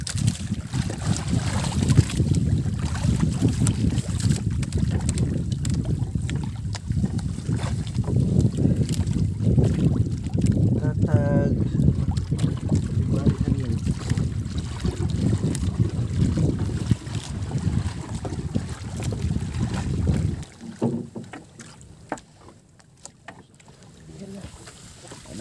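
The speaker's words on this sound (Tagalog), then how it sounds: "Lakas ng alon." Strong sea waves slosh and slap around a small fishing boat at sea under gusty wind, a loud rumbling roar with irregular splashes that drops off sharply near the end, no voices standing out.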